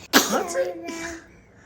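A young child gives one sharp, close sneeze at home, followed by a soft trailing vocal sound.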